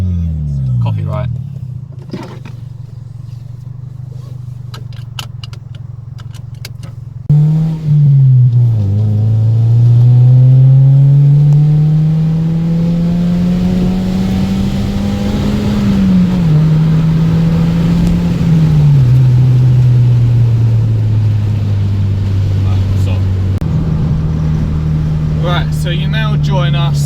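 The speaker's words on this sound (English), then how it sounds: "so I think it's probably best off that we now go for a drive." A slightly modified 2003 Toyota Yaris T-Sport with a 1.5 VVT-i engine idles, then pulls away and accelerates, its engine note rising and falling through gear changes, heard loud and close from inside the cabin.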